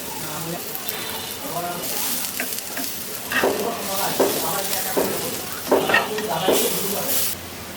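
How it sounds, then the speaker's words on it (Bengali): Small lentil fritters (dal bora) deep-fry in hot oil, bubbling and sizzling steadily, while a utensil scrapes and stirs in uneven strokes that grow busier midway. A voice murmurs faintly underneath. "এগুলো যেহেতু বড়া, বড়া আকারে ভাজবো, ছোটো ছোটো করে, বেশি বড় করবো না"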